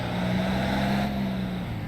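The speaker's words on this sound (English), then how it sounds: "This sounds like the one engine sound they use in San Andreas." In the video game Driver Parallel Lines, a car engine hums at a steady, close, continuous pitch for a couple of seconds, with no voices.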